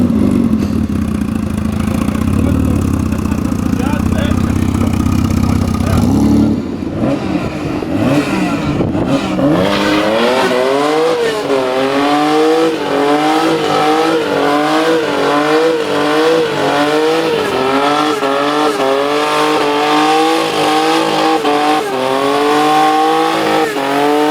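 Supercharged Toyota Corolla T18 with an M50 supercharger pulling hard on a dyno, loud and close, the engine note climbing steadily from a low idle into a high wailing rev with rhythmic harmonic swells.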